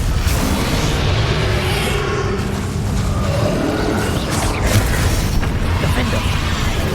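A Confringo explosive spell fired in the video game Hogwarts Legacy: a dense, continuous rumble of booming blasts and crackling bursts that fills the whole stretch, loud and close, with no clear gaps between impacts.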